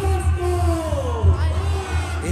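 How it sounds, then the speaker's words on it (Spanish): Crowd at the Inti Raymi festival shouting the Quechua victory cheer in a plaza, a loud, sustained mass of voices with rising and falling yells and whoops over a continuous roar. "Este es el grito, el Vítor quechua."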